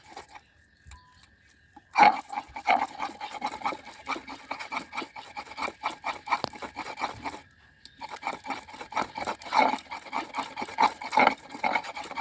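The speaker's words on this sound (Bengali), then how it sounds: "এখন এটা শিলনোড়ায় বেটে নেব।" Ash gourd leaves ground by hand on a flat Bengali sil-nora grinding stone, giving a steady run of rasping, rubbing strokes with soft crunches, close and fairly quiet, pausing briefly partway through before resuming.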